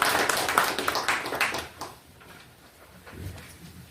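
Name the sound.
audience applause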